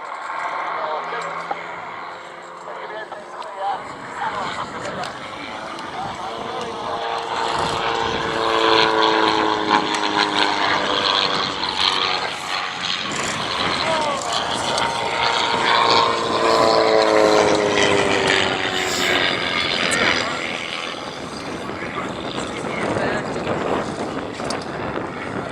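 Propeller aerobatic aircraft, including a Twister, drone loudly and continuously through synchronised stall turns at the 2017 Abingdon Airshow, the engine pitch swelling and sliding as they climb and pivot, with a voice talking over the noise.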